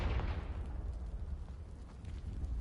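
A Confringo blasting spell in Hogwarts Legacy goes off as a deep, booming explosion, then fades into a rumbling low roar.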